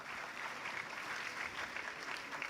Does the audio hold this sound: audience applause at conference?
yes